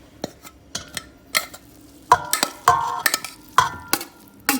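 Spoon scraping and clinking in a pan as a chicken filling for savory chicken pastilla is stirred, with irregular metallic taps and scrapes that grow busier partway through, close up, no voices.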